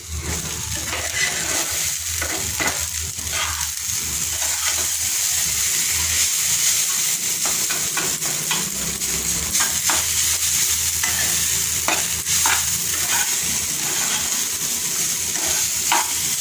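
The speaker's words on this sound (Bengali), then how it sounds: "দুই প্যাকেট চাউমিন ছিল, মশলাটা দিয়ে দিলাম। এখন একটু নেড়ে নিই।" Chow mein with spice mix is stirred in an oily pan, the spatula scraping in irregular strokes over a steady sizzle, close and loud with no talking.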